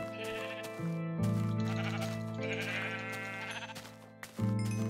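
Several sheep bleats from Minecraft, loud and close, each drawn-out cry overlapping the next over a steady in-game backdrop, with no talk.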